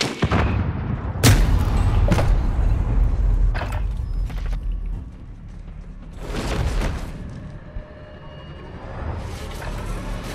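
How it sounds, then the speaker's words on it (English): Grenade blasts and gunfire in Call of Duty Warzone, several sharp booming bursts scattered across the clip with quieter rumbling gaps between them, fairly loud and with no voices. "Grenade out!"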